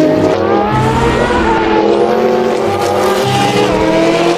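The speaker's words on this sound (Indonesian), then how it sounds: "Ini mobil balap," A toy race car sound effect plays loud and close: a continuous revving engine roar with tire-squeal and skidding tones that rise and fall throughout.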